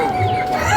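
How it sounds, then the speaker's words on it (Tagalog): Chickens cluck in a busy African market, a brief close run of clucking over a dense background of crowd noise. "Ito, manok."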